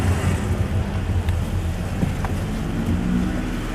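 Steady low engine hum and road rumble heard from inside a car as it pulls up to park, with faint small clicks and no talking.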